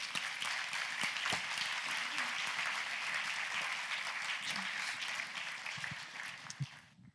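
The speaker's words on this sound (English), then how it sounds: "please give a big round of applause to Professor Šikšnys" Audience applause rises at a scientific symposium on gene editing as a professor is welcomed to the stage, steady and fairly loud for several seconds, then thinning and fading out at the end.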